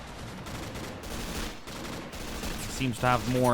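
Gunfire in the Stalingrad RobZ Realism Mod video game, a battlefield with scattered shots and bursts under continuous background noise, while someone talks over it.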